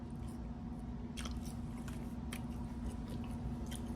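Someone eats soft, non-crunchy In-N-Out fries, making a few quiet, close bites and chewing sounds spaced out over a faint steady background hum, with no talk.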